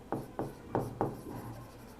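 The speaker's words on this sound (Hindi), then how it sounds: "या लिख लेते हैं" Writing during a history lesson: four distinct scraping strokes, evenly spaced at first, then trail into softer, continuous rubbing, with a low steady hum in the background and no talk.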